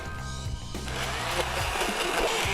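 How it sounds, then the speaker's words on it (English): A blender whirs steadily through cauliflower soup with chicken stock, a close, continuous grinding motor drone that builds slightly as it runs. "And then we'll put the blender to it."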